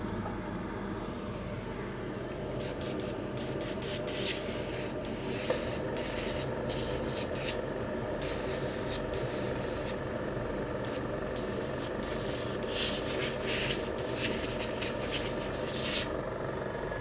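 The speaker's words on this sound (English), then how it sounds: "Just going to give this a bit of a blast with the compressed air." Compressed air blasts into a MacBook A1466 laptop that won't turn on, a steady hiss broken by bursts of short spurts, close and continuous with no talking.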